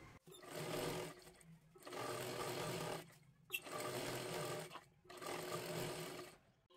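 Close and steady, a sewing machine stitches lehenga fabric for a child's dress in three long runs of whirring stitches, each separated by a short pause.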